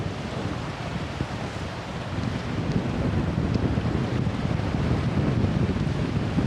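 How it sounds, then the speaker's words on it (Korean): Strong wind buffets the microphone outdoors on Jeju Island, a steady loud rumble with gusty low-end bursts that builds slightly louder partway through and stays continuous throughout. "바람이 많이 불어서 수음이 어떻게 되는지 잘 모르겠어요"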